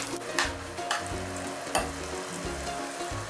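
Sliced onions deep-frying in ghee for ghee rice, a close, continuous bubbling sizzle with a few sharper crackling bursts as the pieces are stirred.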